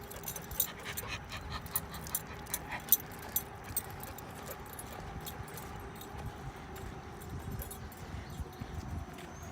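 A dog pants steadily on a walk along a river bluff, with soft, rapid breaths close by. Light jingling and footstep-like taps mix in over quiet outdoor ambience.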